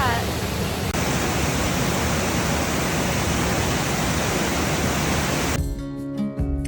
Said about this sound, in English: We are all alone out here with this waterfall all to ourselves.